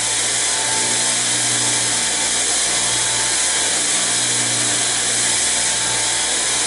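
Power tool running steadily while sharpening the cutting teeth of a Bobcat SG 60 stump grinder, a loud continuous whine and grind that holds without pause.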